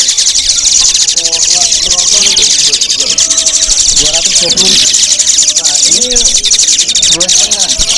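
Jalak suren (Asian pied starling) chicks chirp shrilly and constantly at the Pramuka bird market in Jakarta, a loud begging chorus with a high buzzing tone and overlapping calls throughout.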